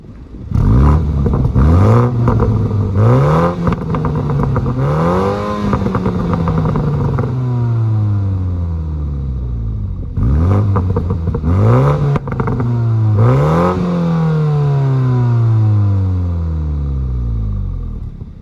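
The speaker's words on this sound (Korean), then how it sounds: "배기음 한번 들어보시죠." A MINI Clubman John Cooper Works's exhaust roars through two sets of loud revs, each climbing and falling with sharp blips, crackles and pops between them.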